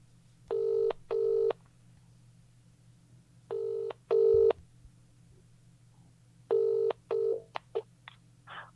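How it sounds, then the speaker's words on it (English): Telephone call tones: pairs of clear ringback beeps repeating close up, separated by pauses, followed by a quick burst of short dialing tones near the end, with no talking during the sequence. "Let's phone Paul Garner."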